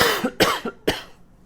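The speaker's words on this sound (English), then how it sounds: "Excuse me, I need to cough." A man coughs three times in quick succession, close and dry, with short gaps between bursts and no talk around them.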